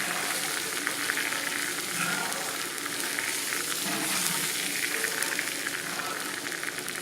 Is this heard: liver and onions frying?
yes